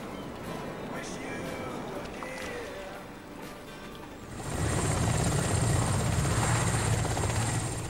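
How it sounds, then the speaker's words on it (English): Coast Guard helicopter flying overhead during a night sea rescue of kayakers off Brighton, its steady rotor roar swelling loud midway and holding, with faint voices and wind underneath beforehand. "And we saw the Coast Guard helicopter."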